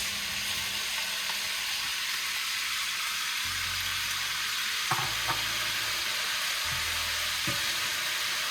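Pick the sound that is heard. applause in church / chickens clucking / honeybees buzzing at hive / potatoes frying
potatoes frying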